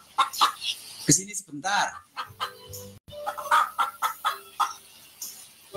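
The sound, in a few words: chickens clucking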